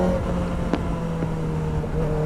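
A Kawasaki ZX-4RR motorcycle is ridden around town, its engine holding a steady, fairly loud drone with a clear tonal hum and a couple of brief ticks, with no speech.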